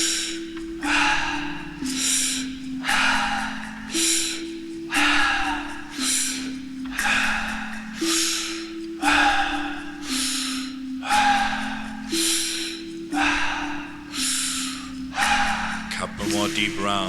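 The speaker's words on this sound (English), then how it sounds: "Deep and circular breath. In, out." Deep circular breathwork during a guided breathing session: about eight slow, rhythmic in-and-out breaths, each a loud airy rush, repeating evenly over a steady low drone.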